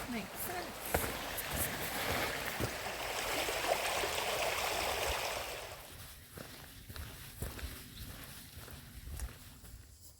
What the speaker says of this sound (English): We're next to the water here as well. Next to a little beck, a little river.